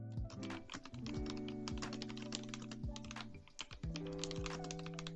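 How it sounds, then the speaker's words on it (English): Rapid, quiet typing on a Corsair K65 Plus wireless keyboard with red switches, a muted, close patter of keystrokes over a soft background hum. "I'm just gonna kind of do a little bit of very brief type testing here"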